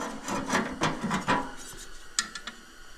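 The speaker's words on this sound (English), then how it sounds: "take off the paint right along the edge here" Abrasive scraping strips paint from the edge of a 1966 Charger lower control arm in a series of rough rubbing strokes, then a few sharp, brief scrapes, close up with no talk.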